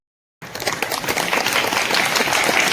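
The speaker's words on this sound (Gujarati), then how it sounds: "તો આપણે તાળીઓથી બધા" After a brief silence, an audience at an elocution competition in Kodinar erupts into loud, dense clapping that quickly builds and holds steady, a continuous wash of hands filling the hall.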